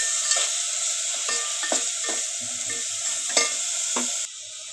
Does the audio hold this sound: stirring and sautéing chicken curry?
yes